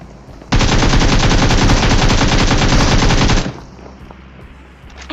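Sustained automatic gunfire from a rush in a battle royale video game, a loud, dense burst lasting about three seconds, then fading to quieter game ambience with a few faint clicks.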